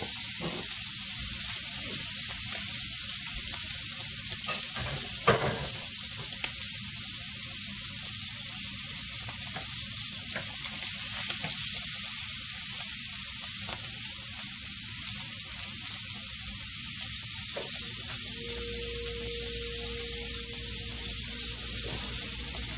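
Shrimp sizzle in a pan beside a sous vide crusted ribeye, a loud, steady close-up hiss with light crackles that runs unbroken for over twenty seconds, with no one talking.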